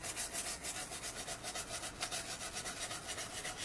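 Steady rhythmic scraping of charred wood being cleaned off the surface, a quiet, close rasping stroke repeated several times a second with no talking.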